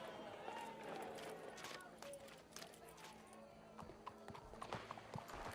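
Horse hooves clip-clop at a trot in a quick, irregular rhythm in a Red Dead Redemption roleplay game, mixed with background chatter and a faint crowd murmur.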